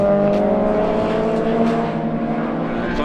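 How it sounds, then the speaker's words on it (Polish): Classic BMW Motorsport race car engine at Nürburgring Classic 2019 revving hard and steadily, a loud, sustained mechanical roar filling the whole three seconds with no voices. "Johnny Cecotto potrafił w czasie wyścigu wykręcić 10 200 obrotów z tego silnika"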